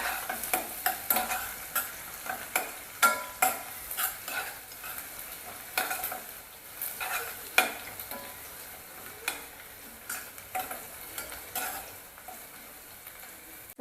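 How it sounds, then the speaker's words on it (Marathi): Onion frying in a pan for chana dal pulao, stirred repeatedly with a spatula, giving a bed of sizzle punctuated by regular loud scraping strokes, close and without speech. "कांदा चांगला गोल्डन होईपर्यंत परतून परतून घ्यायचा"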